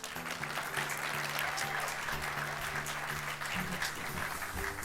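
Audience applause at a cosmetology beauty show press conference in Chicago, a steady dense wash of clapping that fills the whole stretch at moderate level with a faint murmur of voices beneath.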